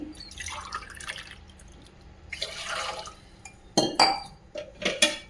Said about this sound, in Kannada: ಈಗ ಅದಕ್ಕೆ 2 ಗ್ಲಾಸ್ ನೀರು ಹಾಕ್ತಾ ಇದ್ದೀನಿ